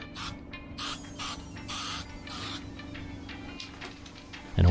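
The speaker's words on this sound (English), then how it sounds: "it was time for the spray putty" Spray putty hissing from an aerosol can onto a Miata's car body in short bursts, several separate sprays of about half a second each, close and fairly loud, with a clunk at the end.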